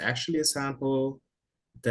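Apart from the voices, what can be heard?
No everyday noises stand out.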